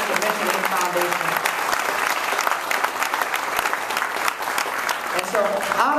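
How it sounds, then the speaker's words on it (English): An indoor audience at a library opening claps steadily in sustained applause, dense and fairly loud throughout, with some voices mixed in. "So how about a round of applause"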